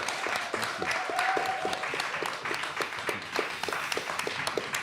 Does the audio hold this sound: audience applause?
yes